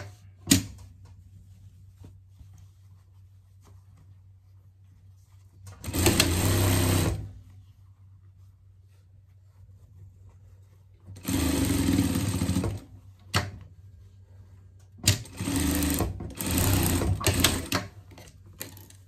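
Sewing machine stitching fabric panels for a hot-dog style pet bed, running in three bursts of a few seconds each, the last broken into quick stop-start runs, close and fairly loud with quiet pauses between.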